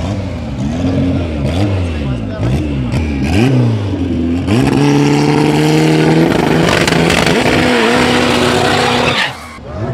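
A Saveiro and a Fusca drag race, engines roaring and revving hard, pitch climbing and shifting through gears, tires squealing, loud and close throughout.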